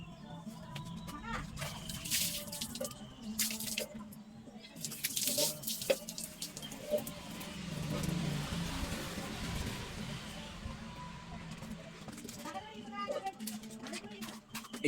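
Water from a filled bucket is poured and splashed during an outdoor bath at a hand-pump washing spot, with irregular splashes and trickles and a voice talking throughout.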